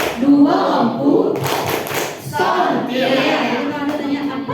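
A group performs the rhythmic tepuk sontiang clapping game, with patterned bursts of hand claps interleaved with chanted voices, loud and close.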